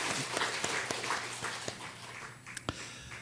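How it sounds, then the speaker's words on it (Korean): A church congregation applauding during a Sunday worship service: a short burst of scattered, moderately faint hand claps in a reverberant room, thinning out after a few seconds. "그래도 가급적 편하게 하라고 박수 한번 쳐주시기 바랍니다"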